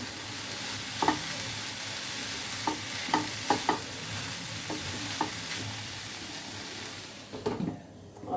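Bottle gourd peel, potato, carrot, bean and small shrimp curry hisses softly in a pan as a spoon stirs it, giving several distinct clinks against the pan over a steady sizzle, then a final clatter as the lid comes off.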